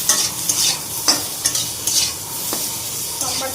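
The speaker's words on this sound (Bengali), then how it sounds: "এবার একটু আলুগুলি ভেজে নেব।" Boiled potatoes frying in a pan with salt and turmeric, stirred with a utensil: steady sizzling under repeated scraping strokes, close and clear with no talk.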